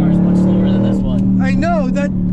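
A powerful car drives fast with a steady, loud engine drone close by, while people talk over it.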